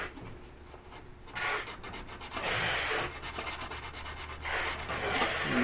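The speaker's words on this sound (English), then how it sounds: "So this is 220 wet or dry sandpaper. It does a pretty good job of prepping the metal for a solder repair like this." 220-grit wet or dry sandpaper scrubs the metal of a Dietz 25 side lamp lantern, rasping back-and-forth strokes in uneven bursts, close and moderately loud, with no talking.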